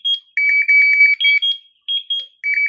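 An A7 portable UHF RFID reader emits bursts of loud, high electronic beeps on finding a tag, rapid chirping runs broken by short gaps, with no speech over them.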